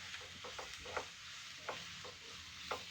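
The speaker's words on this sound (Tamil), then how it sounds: "நல்லா கைவிடாமல் ஒரு 2 நிமிஷத்துக்கு பரட்டி விட்டுக்கிட்டே இருக்கேன் நான்" Carrot, onion and cabbage are stir-fried for egg noodles, with a faint, steady sizzle broken by repeated soft scrapes and clinks from a spatula tossing the vegetables in the pan.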